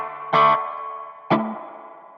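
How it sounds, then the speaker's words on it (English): An electric guitar plays through a Headrush Flex Prime amp emulation with built-in reverb. Two loud, distorted chord strums ring out with a long reverb tail, alone with no talk. "This particular amp has reverb built in, and reverb is built in here."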